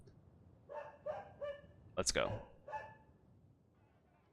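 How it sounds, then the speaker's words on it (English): A dog in the video game Sorcery! gives a run of sharp barks, several spaced yaps and one louder bark in the middle, fairly close, with a brief spoken remark among them. "Damn dog, shut up!"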